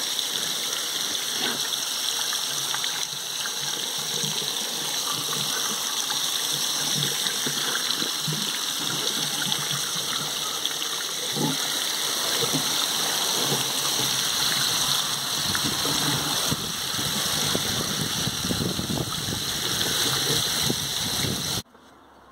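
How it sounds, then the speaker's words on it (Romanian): Hot peppers rinsed under a strong jet of tap water, a steady loud broadband rush of running water that continues unbroken for about twenty seconds before stopping abruptly at the end. "Îi spăl sub jet puternic de apă."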